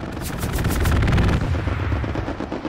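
Aircraft strafing-run gunfire in a video game tears through as dense, rapid-fire bursts, loud and close, with the barrage easing slightly toward the end; no one speaks.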